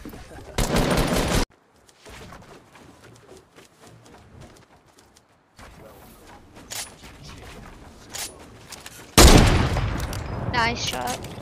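Loud gunfire bursts from a Fortnite trick shot, one sharp volley early and another heavier burst near the end, with quieter game sounds and players talking in between.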